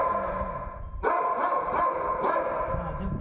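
A dog repeatedly barks and yips nearby in a household setting, the sharp calls coming in several bursts, moderately loud and not mixed with talk.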